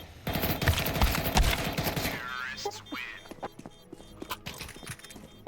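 Rapid automatic rifle spray in Counter-Strike 2 during a tournament match, a dense loud burst of gunfire at first, then scattered shots and clicks, with a caster talking over it.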